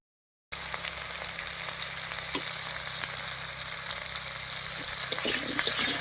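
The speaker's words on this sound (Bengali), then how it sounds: "ফোড়নের উপরে আলু দিয়ে একটু নাড়িয়ে নিয়েছি" Potatoes fry in oil over tempering spices in a pan, giving a steady close sizzle with a few faint stirring scrapes.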